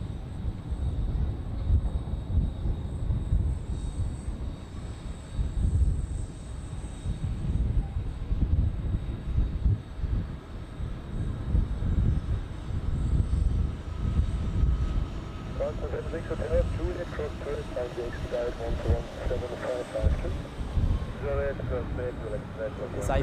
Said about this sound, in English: And we have a go around on runway 14 actually.